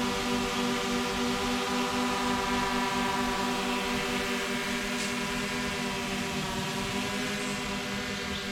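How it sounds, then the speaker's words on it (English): A DJI Mini 3 Pro drone's obstacle avoidance sensor gives off a steady, continuous tonal whine with layered hum over airy noise, holding level and fairly loud throughout. "So that sound that you hear is the obstacle avoidance sensor."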